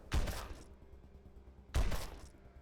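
Two heavy gunshots from Wasteland 2, each a loud booming blast with a short decaying tail, spaced about a second and a half apart, with no talking.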